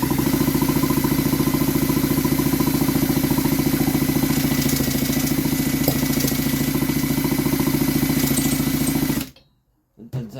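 A Stihl MS290 chainsaw runs close by, its reassembled engine holding a loud, steady buzzing drone for about nine seconds before it cuts off abruptly to near silence.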